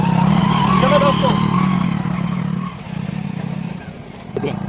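A motorcycle rides along a rough forest road, its engine humming loudly and steadily before easing off, with a voice heard over it.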